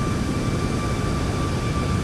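Steady, broadband roar of a Boeing 737 MAX 8's jet engines heard from outside the airliner in a flight simulator, continuous and even throughout with a faint high tone on top and no voices.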